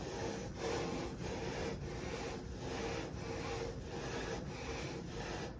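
A ring is lapped by hand, rubbed steadily back and forth to wear away machining inconsistencies, giving a continuous close scraping rasp with a gentle repeating rhythm and no talking.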